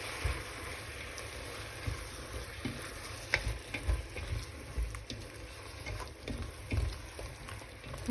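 Food cooking in a pan ahead of adding mushrooms, giving a soft, steady sizzle and crackle with occasional light stirring scrapes, heard close and alone without talk.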